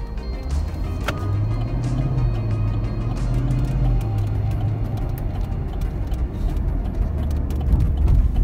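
Chevrolet Camaro SS car driving on the road, a steady low engine drone and tyre roar heard from inside the cabin, with a faint whir and a few soft clicks over the constant hum.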